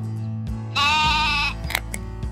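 A sheep or goat on a farm gives a single loud, close bleat lasting under a second, then a few short softer sounds follow.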